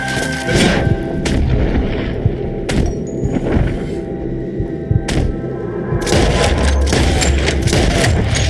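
Gunfire in a Red Dead Redemption 2 shootout, with repeated loud close shots and booming blasts over a continuous rumbling battle din, the bursts growing denser toward the end.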